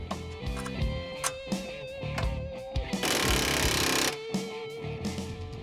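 Power tool tightening the bolts that secure a coilover to its upper mount on a 2008 Ford Crown Victoria police cruiser, heard as short buzzing rattles with one sustained roughly second-long burst, close by amid workshop clatter.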